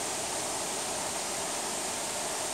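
Water flows across the floor of an abandoned paper mill in Hamburg, a loud, unbroken broadband rush like a small waterfall, nearby and steady, with no talk.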